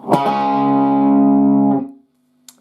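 Distorted electric guitar plays a short chord phrase from a song, with a sharp pick attack, a sustained ringing chord, then a quick cutoff and a small pick noise after.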